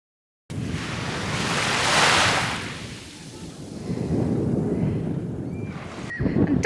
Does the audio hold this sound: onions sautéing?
no